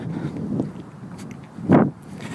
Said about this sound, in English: It's very windy along here.